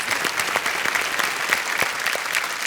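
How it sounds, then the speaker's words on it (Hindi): Studio audience on a TV quiz show, Kaun Banega Crorepati, breaking into dense sustained applause, steady and fairly loud with no talk over it. "एक बार फिर तालियां बजाएं के लिए"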